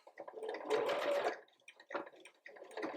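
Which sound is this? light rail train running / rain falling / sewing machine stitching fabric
sewing machine stitching fabric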